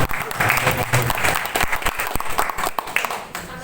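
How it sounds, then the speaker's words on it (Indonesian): Applause for Pak Dadim at a Raker and Baksos gathering, a short burst of crowd clapping, dense and fairly loud, fading toward the end. "Kita berikan aplaus lagi yang meriah buat Pak Dadim"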